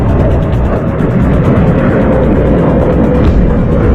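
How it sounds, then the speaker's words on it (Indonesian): Military fighter aircraft from 1947 Dutch forces in flight, a steady, loud broadband engine roar that holds constant throughout with no breaks. "Mereka didukung oleh pesawat-pesawat tempur."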